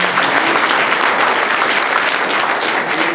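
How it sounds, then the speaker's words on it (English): Audience applause fills the room at a Calgary Signal Hill leadership debate, a dense, loud burst of clapping sustained throughout the short moment without voices on top. "Let's give them a round of applause."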